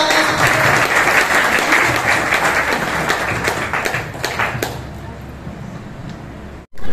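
An audience at an RCM business seminar in Rohtak gives loud, vigorous applause that gradually thins and fades toward the end, followed by a brief cutout and restart of room sound.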